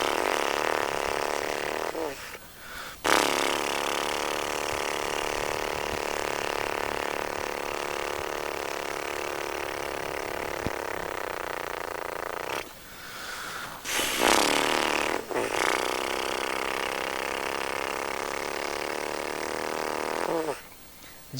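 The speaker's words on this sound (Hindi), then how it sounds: "जिस प्रकार बच्चे होठों को इस प्रकार करते हुए श्वास को बाहर छोड़ते थे, होठों को ढीला छोड़ करके, ये क्रिया आपको करनी है" A person does a yogic face exercise, blowing breath out through loose, vibrating lips in long buzzing trills. Three sustained fluttering bursts are separated by brief breaths, close and steady.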